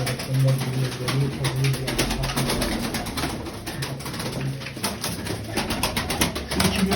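Pigeons, one of them white-tailed, coo in a loft in soft repeated low calls, with shuffling and rustling around them and occasional quiet voices in the background.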